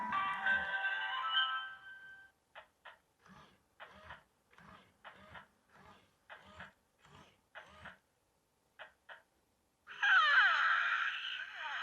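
A Hatchimals Alive toy egg plays a soft electronic dragon heartbeat, a series of paired muffled thumps, framed by brief bursts of bright electronic chirps.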